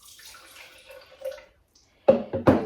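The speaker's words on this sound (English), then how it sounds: "what I do is I pour a bit of it in first" A trickle of liquid pours into a blender cup for a smoothie, starting as a faint thin stream. A pause follows, then several louder splashing pours up close.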